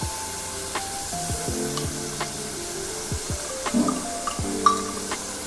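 Masala for a Kerala fish curry fries in a pan, a soft continuous sizzle broken by repeated scraping strokes of a spoon stirring, close and unaccompanied by speech.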